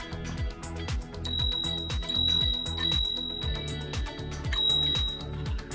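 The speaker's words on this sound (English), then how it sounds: "Every time I hit the bell, everybody in front can't really hear" A small mini bell on a bicycle rings several times during a ride, giving thin high pings over a steady, rhythmic mechanical whir from the moving bike.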